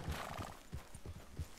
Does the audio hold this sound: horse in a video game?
yes